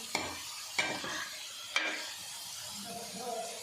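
Taro (arbi) pieces frying in a pan, with three sharp metal scrapes of a spatula stirring against the pan over a low steady sizzle that continues quietly after the strokes.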